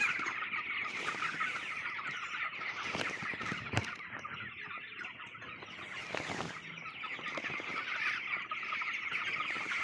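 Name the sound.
chickens in a poultry farm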